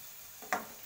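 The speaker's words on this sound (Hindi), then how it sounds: "और इसको चलाते हुए रफली" Mushrooms, boiled beforehand, are stirred roughly through a curry in a pan: a single quick scraping stir rises briefly over a soft, steady sizzle, close and fairly quiet, with no talking.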